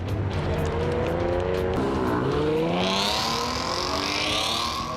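Camouflaged pre-production Chevrolet Camaro prototypes, fifth and sixth generation, driven hard on the Belle Isle track in Detroit: a loud, close engine revs and climbs in pitch as tires squeal, with no voices.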